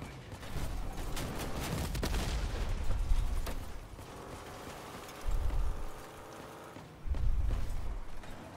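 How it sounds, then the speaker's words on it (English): Rockets striking vehicles in the Crossout combat game: a run of booming impacts and bursts of gunfire, with heavy low thuds recurring amid mechanical clatter at moderate loudness. "those rockets hit."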